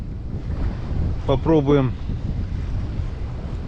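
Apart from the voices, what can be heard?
wind blowing over water while fishing from a boat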